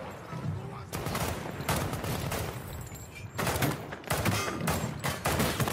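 Pistol shots in the video game Medal of Honor (2010): close, loud bursts of rapid shots in several clusters with short gaps between them, over a steady battle din.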